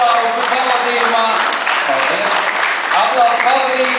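An audience applauds performers at a Latvian stage show, a dense, steady wash of clapping held at even loudness throughout, close and full.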